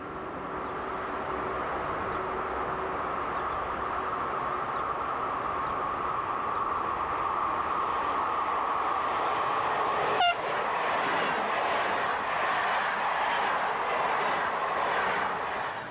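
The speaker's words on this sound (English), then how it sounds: "Haulage for the Brussels to Amsterdam service is a dual voltage Class 11 electric" A Brussels to Amsterdam train hauled by a dual voltage Class 11 electric locomotive, with a steady rumbling run and a sharp passing sweep partway through, followed by rhythmic wheel clatter.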